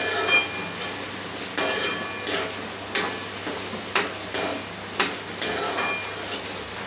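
Okra and potato being stir-fried in a pan, with a steady close sizzle and a spatula scraping and tossing in a regular rhythm of about one stroke per second.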